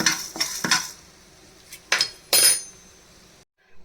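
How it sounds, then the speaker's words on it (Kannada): Three spoons of urad dal dry-roasting in a pan while being stirred: a few close metallic spoon scrapes and clinks against the pan over a faint sizzle, then silence. "ಮೂರು ಸ್ಪೂನು ಉದ್ದಿನಬೇಳೆ ತೊಗೊಂಡಿದ್ದೀನಿ. ಅದನ್ನು ಚೆನ್ನಾಗಿ ಹುರ್ಕೊಳ್ಳೋಣ."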